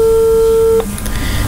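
A telephone line tone sounds during a radio phone-in quiz, a loud steady electronic tone holding for under a second before cutting off into faint line noise and background clicks.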